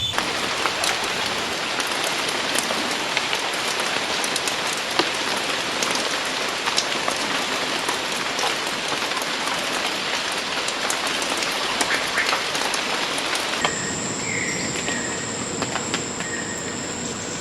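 Heavy rain pours steadily on a Suriname forest, a dense continuous hiss of drops on leaves and surfaces, loud and close throughout, easing to a lighter patter near the end.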